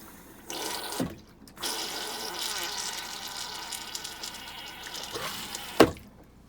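Water runs into the rim and bowl of a Dometic 310 RV toilet, a hissing rush that starts and stops in short bursts with a closing clunk near the end, heard up close without talk.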